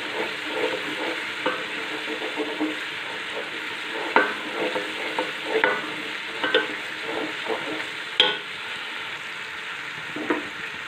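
Tomatoes softened in a pan are stirred with salt, red chilli, coriander and garam masala, giving a steady close sizzle broken by repeated scraping stirs with no voices.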